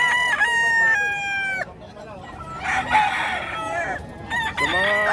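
A Hatch Gray gamefowl rooster crows several times at close range, loud and drawn out with strained harmonic calls, and some clucking and other fowl noise between the crows.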